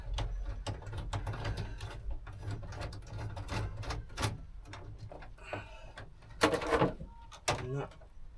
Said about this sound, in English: So I'm just going to undo the torque screw.